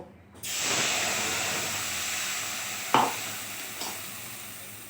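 Spice mixture dropped into hot oil over a lowered gas flame, for stuffed ash gourd fry, erupts into a loud, steady sizzle and hiss, with two sharp utensil clinks near the end.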